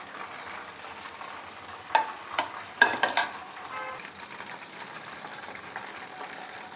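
Chicken pakodi pieces fry in hot oil with a steady low sizzle, broken by a few brief clattering stirs and scrapes near the middle; no one talks.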